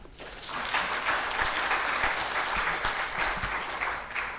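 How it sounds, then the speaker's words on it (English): Seminar audience breaks into sustained applause, a dense, steady wash of many hands clapping with a few louder individual claps standing out, heard without any talk over it. "give them a thunderous hand clap"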